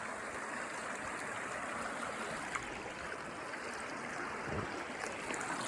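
A rain-swollen creek runs over its bed in woodland, a steady soft rushing and babbling of water, faint and continuous, with no voices.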